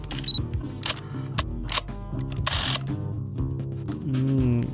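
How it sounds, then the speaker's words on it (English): A camera shutter fires in a quick series of sharp mechanical clicks and whirs, close and clear, over a tonal background, with no one talking. "What is it? Camera."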